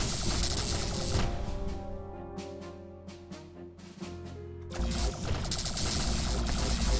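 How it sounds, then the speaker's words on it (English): Weapons firing in a space video game, a dense, loud mechanical barrage with rapid rhythmic bursts and a brief quieter stretch of separate metallic shots before the full volley returns. "Fire all weapons!"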